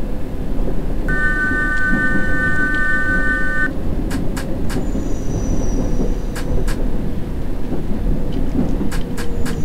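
A subway train passes in the World of Subways game, a heavy rolling rumble with a sustained tonal whine and sharp metallic clicks and squeals over steady track noise, no talking.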